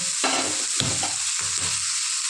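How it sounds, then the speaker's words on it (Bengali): Oil crackles and sizzles as seeds fry in a pan, with a few stirring scrapes breaking through the steady hiss; close and fairly loud, no talking. "জিরেটা ভেজে নেবো এবার জিরেটা ভাজা হয়ে গিয়েছে"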